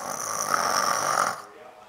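A young boy imitates his father's snoring with his voice, a single drawn-out rasping snore lasting over a second before cutting off into quiet.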